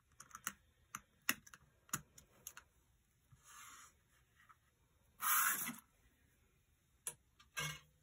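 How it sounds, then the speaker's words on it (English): Sharp little clicks and pops as die-cut paper hearts are poked out of a thin-cut card, irregular and close, with a couple of brief rustling bursts of paper in a quiet room. "So let's just poke these little hearts out."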